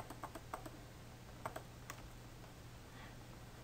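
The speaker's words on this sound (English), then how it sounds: "hold down the CTRL button on your computer and click in" Computer keyboard keys and mouse buttons clicked while searching property listings online, a quiet series of irregular taps and clicks in short clusters, close and soft, with no talking.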